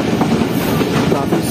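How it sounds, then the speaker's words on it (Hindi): A passenger train running on rails near Lahore on the Pak Business Express route, a loud steady rumble with a faint rhythmic clatter of wheels, continuous and close. "पीएलसी पास हो रही है ट्रेन लाहौर आने से पहले"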